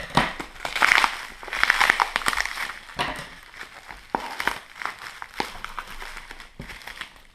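Plastic foil around a small box crinkles and crackles as it is torn open and unwrapped. The handling is close and fairly loud, with steady rustling and a few sharper snaps.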